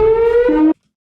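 A beach shark attack warning siren gives a single loud wail that rises slightly in pitch, steps down, and cuts off abruptly after under a second, with nothing else around it.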